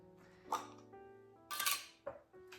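A spoon clinks against the sides of a bowl in a few irregular taps and scrapes while yogurt culture is stirred into soy milk, over a quiet background with a faint steady hum.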